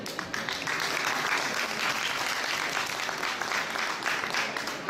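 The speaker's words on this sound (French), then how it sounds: "on peut l'applaudir s'il vous plaît" A live television studio audience claps for a guest named Thierry, a steady, full burst of applause that holds at an even level for about five seconds with no talk over it.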